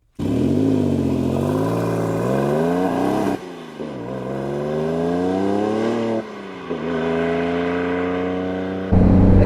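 A RUF CTR Anniversary sports car engine revs hard through the gears, its loud rising roar climbing in repeated sweeps with brief dips at each gear change, heard close and steady.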